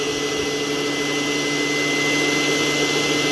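A Fakir stand mixer runs at its sixth speed setting with the machine shaking, giving a steady, loud motor whine with a constant hum and no change in pitch throughout.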